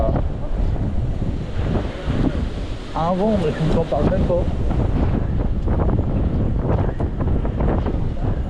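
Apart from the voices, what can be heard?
wind blowing at Cantallops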